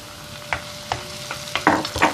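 Tomatoes sautéing with onion and garlic in olive oil, a low steady sizzle broken by several scraping stirs of a spoon against the pan, close and without voices.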